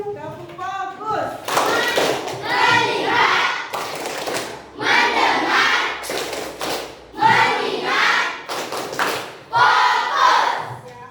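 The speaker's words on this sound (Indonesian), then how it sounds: "Tepuk fokus dulu. Tepuk fokus." An Indonesian class does a focus-clap routine in a Bahasa Indonesia lesson: bursts of rhythmic group clapping and thumps alternate with children's chanted voices, loud and close throughout.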